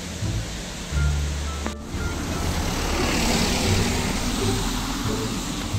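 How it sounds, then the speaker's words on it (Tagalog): Waterfall at Taroko in Taiwan, a loud, steady broadband roar of rushing water that fills the whole span, with a brief dip and a thump near the middle. "So this is the falls."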